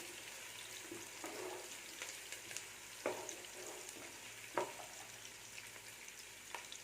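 Onions frying in ghee for ghee rice over a medium flame, a steady soft sizzle with occasional sharper crackles and clinks of stirring, close and without talk.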